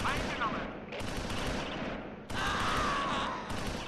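Rifle fire in the World War II strategy game Close Combat IV, set at Simmerath and Udenbreth in December 1944, as rapid overlapping shots crackle in dense volleys, loud and continuous, with a short dip midway.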